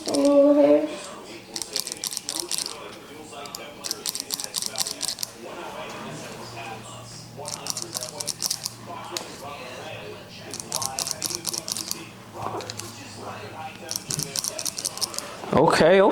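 Old hair clippers cut hair in repeated bursts of high, raspy buzzing separated by short quieter pauses, fairly close and moderate in level.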